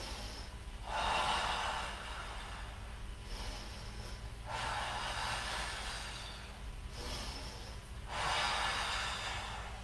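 Three slow, deep breaths drawn audibly through the nose during a yoga pose, each a soft airy rush lasting a couple of seconds, close and calm with no talking.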